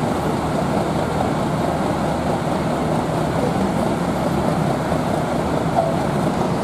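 A bus pulls out at the busy STJ bus terminal, a low steady engine rumble mixed with terminal crowd and traffic noise, continuous and fairly loud with no clear talk.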